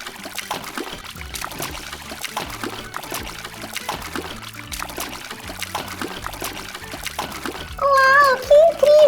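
During a children's toy play game with a mermaid doll, water pours and trickles continuously, with a steady rhythmic backing underneath and a brief high-pitched voice near the end.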